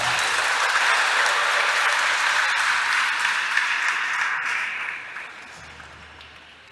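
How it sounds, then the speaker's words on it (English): Wedding guests applaud the newly married couple at the ceremony, a full, steady round of clapping that holds for several seconds and then fades away. "Let us greet them with warm round of applause."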